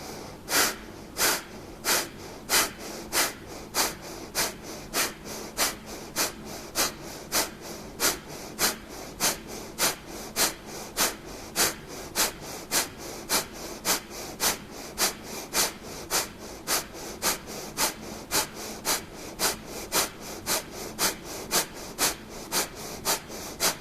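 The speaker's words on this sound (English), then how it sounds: "we're coming into breath of fire. Sharp exhales." Breath of fire in a yoga class: rapid, sharp nasal exhales in a steady, even rhythm, roughly one per second, close and continuous for over twenty seconds without talk.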